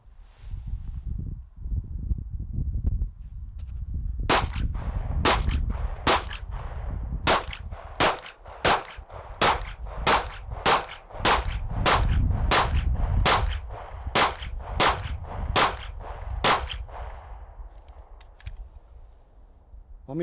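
Pistol fitted with an optic fired in a long steady string of about eighteen sharp, loud shots at an outdoor range, each crack ringing briefly before the next.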